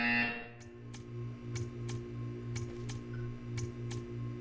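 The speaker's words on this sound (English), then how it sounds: "You will hear a buzzer." A buzzer in the video game Portal 2 sounds as a steady run of paired, evenly spaced pulses over a low electronic hum, heard close and alone.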